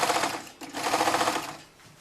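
A sewing machine stitching three layers of fabric together with a one-centimetre seam, a steady fast mechanical whirring that runs almost continuously, pauses briefly, then eases off near the end, close and loud with no speech.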